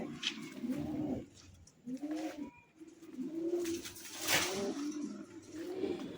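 A pigeon nearby coos again and again in a steady series of soft, rolling calls, with a little handling noise in between.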